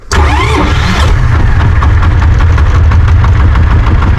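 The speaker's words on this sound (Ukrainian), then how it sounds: "пробуємо завести без декомпресора" A petrol engine fitted with a reduction-gear starter is cranked without the decompressor and catches at once, then runs steadily at a loud, close, mid-pitched idle for several seconds, with no one talking.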